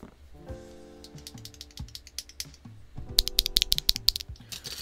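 A switch is pried out of a Redragon K649 gasket-mount keyboard: scattered plastic clicks and taps, a faint tonal whine, then a quick burst of sharp, close clicking near the end.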